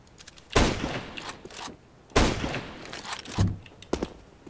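Gunfire in the CS:GO video game comes as three loud, sharp bursts spaced about a second and a half apart, each trailing off, with a few lighter clicks between them.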